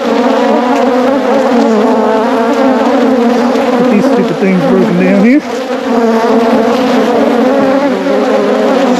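Honey bees swarm in a loud, dense buzz around an opened hive during a brood check, the droning hum steady throughout; a man mutters briefly under it.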